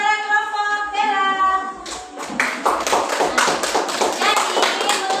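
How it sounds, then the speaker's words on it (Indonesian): Applause from a classroom of students for a group's presentation: after an opening stretch of harmonic sound, a dense, steady patter of many hands clapping fills the rest of the room at close range. "Berikan tepuk tangan kepada kelompok Bella."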